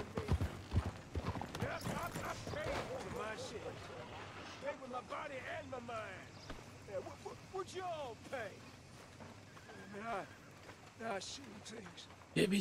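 A white horse gallops in Red Dead Redemption 2, its hooves clip-clopping in a steady quick rhythm while someone talks over it.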